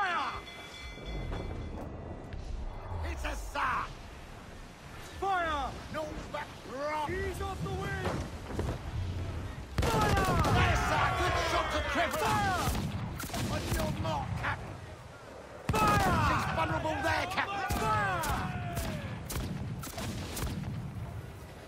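Ship cannons firing in Assassin's Creed IV Black Flag, with repeated heavy booming volleys, some close and loud, mixed with shouting crew voices and game noise throughout.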